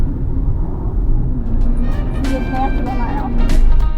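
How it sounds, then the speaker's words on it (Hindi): Car cruising at about 65–70 km/h along an empty highway at midday, a steady low road rumble and engine drone running throughout, with faint tonal sounds drifting in over it. "हाईवे खाली खाली है, गाड़ी चल रही जी 65-70 की स्पीड पर"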